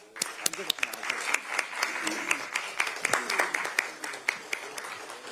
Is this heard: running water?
no